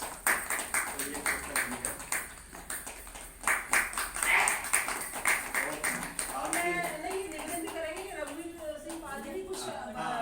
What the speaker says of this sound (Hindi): आइए और सभी लोग भाई ताली बजाएंगे।